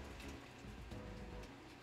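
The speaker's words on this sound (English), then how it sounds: "So, do you hear that? It has rain." Steady, hard rainfall in the Pokémon Y video game, a continuous wash of pattering drops at even volume with no talking over it.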